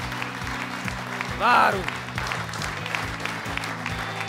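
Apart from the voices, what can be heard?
audience applauding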